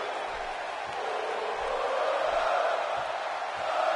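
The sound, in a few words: crowd cheering in a WWE wrestling video game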